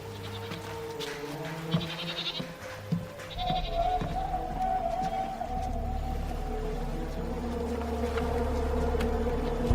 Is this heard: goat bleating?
yes